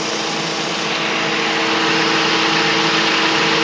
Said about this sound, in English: There's the engine. Runs pretty good. It's a 4-cylinder.